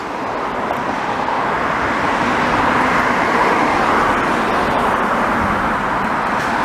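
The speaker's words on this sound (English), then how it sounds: "I got that semi-truck Kenworth there" A Kenworth semi-truck roars past steadily on Boulevard Pie-IX in Montreal, a broad continuous road rumble that holds loud for several seconds without breaking.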